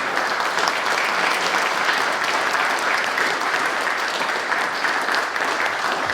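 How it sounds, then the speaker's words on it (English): Sustained applause from an audience at a community energy and climate roundtable, a dense, even clapping that fills the room without pause. "let's give them all a round of applause"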